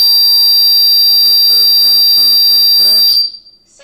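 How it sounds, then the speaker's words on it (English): A Qolsys security keypad's panic alarm sounds a loud, steady, high-pitched electronic tone. Someone talks over it, and the alarm cuts off abruptly near the end. "All you have to do is press it and the alarm will go off."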